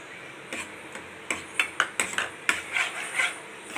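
A spoon lightly mixes chopped cherries into coconut pudding, giving soft, irregular clinks and scrapes against the bowl in a quick series of close taps, with no voices.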